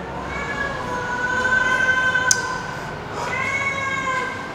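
A cat meows in an abandoned 1990s glass factory, two drawn-out, wailing calls that rise and fall, close and clear against a faint room background.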